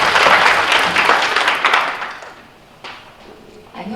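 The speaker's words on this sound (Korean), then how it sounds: "큰 박수 부탁드립니다." Applause from an audience at a disaster-relief policy forum, a dense burst of clapping that is loud for about two seconds, then thins and fades away, with a few thumps afterward.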